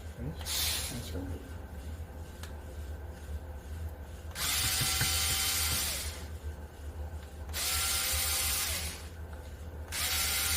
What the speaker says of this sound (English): Let's do it with the power tool.